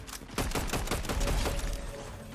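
Rapid bursts of gunfire in the video game Fortnite during a parkour match, a close, loud volley of overlapping shots that starts abruptly and keeps firing to the end.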